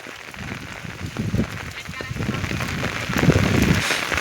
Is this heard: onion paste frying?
no